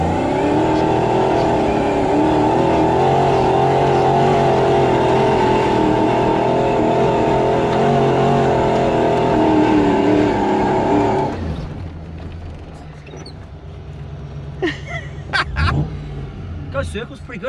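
A supercharged Toyota Hilux in two-wheel drive loops circles in a quarry, its engine droning loud and sustained with a steady revving whine, then easing off to a quieter idle with crunches and bumps near the end.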